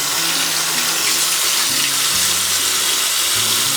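Steady tap water runs from a faucet into a sink while makeup brushes are rinsed during cleaning, a loud, continuous broadband splash with no talking.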